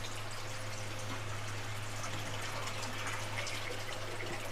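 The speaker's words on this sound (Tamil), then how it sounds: "தண்ணி ஊத்திக்கலாம்." Water pours steadily from a tap or vessel into a cooking pot in a home kitchen before boiling eggs, a continuous hissing splash over a low hum, close and unbroken.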